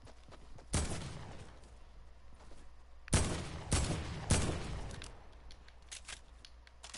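Heavy AK rifle fire in a video game: three loud, sharp bursts spaced a couple of seconds apart, each trailing into a brief echoing decay, over a low steady background hum.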